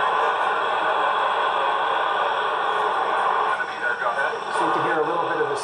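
Ham radio transmission received from the International Space Station, a steady hiss of static and noisy radio carrier with faint, garbled voice-band sound running continuously throughout.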